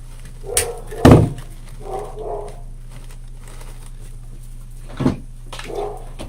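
Two dogs bark indoors in a few scattered, fairly loud bursts, separated by quiet stretches and a soft thud or two.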